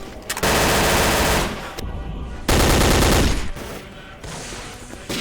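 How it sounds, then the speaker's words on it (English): Loud bursts of rapid automatic gunfire from the video game Day of Defeat: Source come in two long volleys with a short gap between them, chunky and close, with no talking. "the sound of this game just sounds good overall. The guns are very chunky."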